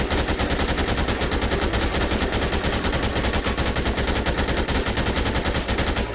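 Machine gun fire in the video game Dead Rising 2: Off the Record comes as a loud, rapid, unbroken burst of shots that lasts throughout.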